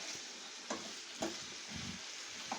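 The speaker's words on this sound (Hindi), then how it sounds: "तो ये हाई फ्लेम पे भून लूँगी इसे अच्छे तरीक़े से" Masala fries over a high flame in a pan, giving a steady broadband sizzle with a few soft scraping stirs and brief bumps, close and fairly quiet, with no voices.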